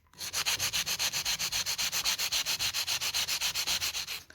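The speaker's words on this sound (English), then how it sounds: "I'm placing my file using my other hand's stability like we did earlier, and I'm just filing" Quick rhythmic back-and-forth scraping of a nail file on the sidewalls of a polygel nail, about thirty close, even strokes with no talking.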